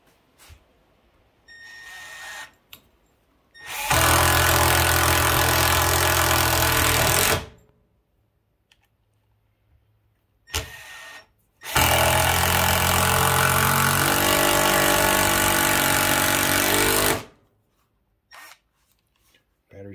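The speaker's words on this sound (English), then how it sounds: "I've got some of these big, long, like deck screws, and I'm going to first put them in with the Milwaukee." Milwaukee M12 cordless drill driving long deck screws into wood, two loud sustained whirring runs of several seconds each with brief pauses, joined by a few short trigger bursts and light handling noises in between.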